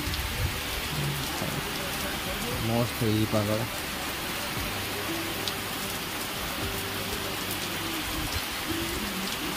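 Heavy rain pours down steadily in a dense, even hiss near a flooded river, with someone speaking briefly over it.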